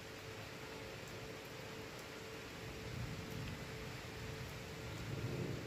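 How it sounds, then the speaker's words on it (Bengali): Low thunder rumbles swell twice beneath a dense, constant wash of heavy rainstorm noise, with no one speaking. "মাঝে মাঝে পুরো মানে মেঘের প্রচণ্ড আওয়াজ"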